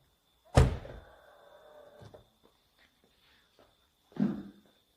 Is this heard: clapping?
no